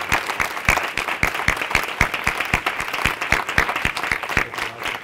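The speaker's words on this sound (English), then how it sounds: "Please give a round of applause to WILL MARRÉ." Audience applause for Will Marré at the close of an INSPIRE evening event, with dense clapping over a strong, regular rhythmic beat that keeps pulsing throughout.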